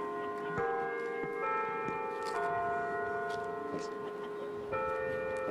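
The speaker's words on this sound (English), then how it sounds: "I'll compete against the bell." A bell rings out in the open during a celebration of San Francisco's F-Line streetcar and Muni Metro service returning, sustained tolling strikes repeating with lingering ringing tones, fairly distant under background noise.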